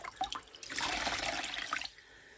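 Cold water running from a tap over hands at a sink, a steady close splashing rush that swells for a second or so and then cuts off.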